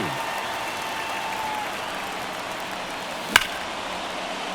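Steady crowd roar in a baseball video game during a tense ninth inning, a continuous broad wash of cheering with one sharp crack near the end.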